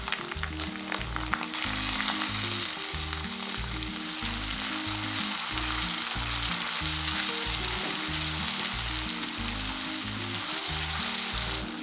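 Steady, loud sizzling of tomatoes added to frying spice paste in a hot pan while cooking daal mash, with occasional stirring scrapes underneath the continuous crackle.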